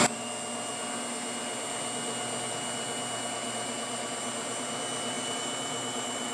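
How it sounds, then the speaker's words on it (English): BELLA 2-in-1 electric mixer whirring at a steady, loud, constant pitch as it mixes carrot cake batter, with no breaks from start to finish. "Cover it and let it mix."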